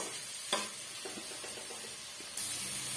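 Cabbage cooking with salt in a pan for a Tamil-style poriyal, a soft, steady sizzle broken by light scraping stir strokes, with the hiss swelling louder near the end and no voices.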